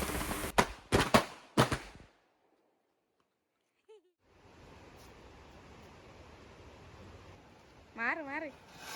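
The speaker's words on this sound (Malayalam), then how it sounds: "പക്ഷെ എനിക്ക് പടക്കം പൊട്ടിക്കാൻ വേണം." Firecrackers bursting for Vishu: a quick cluster of loud, sharp bangs close by, then near silence, followed by a lingering hiss and voices calling out near the end.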